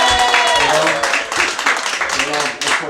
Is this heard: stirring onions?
no